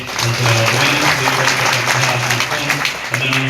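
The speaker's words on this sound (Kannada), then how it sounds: "ಸಮಸ್ತ ಸದ್ಭಕ್ತ ಜೋರಾದ ಚಪ್ಪಾಳೆ ತಟ್ಟಿ" Devotees at a temple applaud loudly together, a dense sustained wash of clapping from a large crowd, with a voice on a loudspeaker carrying over it.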